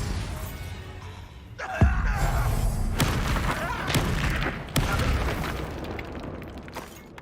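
A Bombarda spell explodes in Hogwarts Legacy, a sharp booming blast followed by a rumbling burst and scattered crackling impacts, heard alone with no talk.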